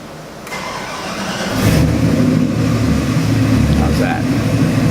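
An LQ9-based 408 cubic inch LS stroker V8 crate engine for a 1956 Chevy Apache cranks and catches, then settles into a deep, rumbling idle close by, with a voice speaking over it.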